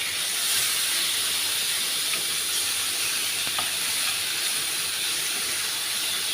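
Small strips of chicken frying in a pan give a loud, steady hiss that runs unbroken throughout, close up, with no voices.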